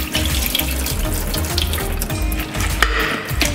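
Cold water pours steadily into a kitchen vessel so blanched greens for vegan fried noodles can be plunged in. The rush and splash is close and constant, with no talk.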